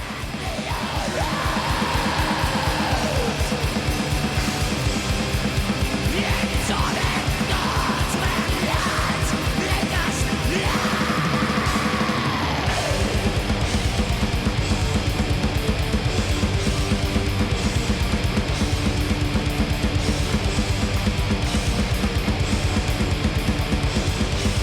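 Metal track plays loud and dense throughout, with driving drums and heavy guitars under despondent cries and tortured screamed vocals, rising and falling in long wails.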